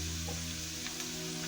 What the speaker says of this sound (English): Ooh, it's kind of sizzly.